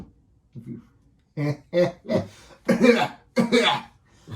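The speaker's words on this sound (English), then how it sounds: "Don't mock my coughing." Several harsh coughs come in quick bursts after a soft one, close and fairly loud, with breaths between.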